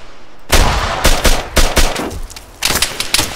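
ARMA 3 gunfire arrives as loud, close bursts of rapid shots, with a short lull before a final volley.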